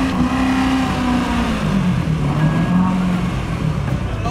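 A C7 car with 650 horsepower and an 8-speed automatic runs at a loud, steady engine drone close by, its pitch rising and falling slightly as it is revved.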